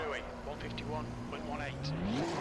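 A GT2 race car engine in Assetto Corsa Competizione hums and climbs in pitch toward the end, faint and low beneath steady talking throughout.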